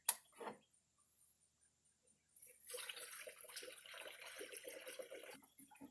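Distilled water is poured into a Toyota Tacoma radiator during a 100k service, a faint steady splashing trickle that starts after a couple of brief knocks and quiet pause, continuing evenly to the end.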